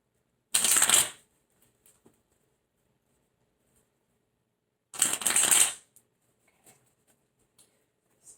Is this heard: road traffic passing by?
no